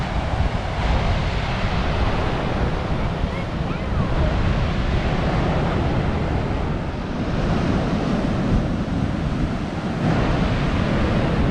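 Surf rolling onto an unimpressive beach in Western Australia, a steady, loud wash of waves broken by gusts of wind buffeting the microphone, continuous for the whole stretch with no voices.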